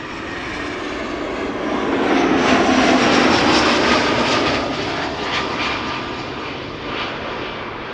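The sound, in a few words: EasyJet airliner arriving at Schiphol Airport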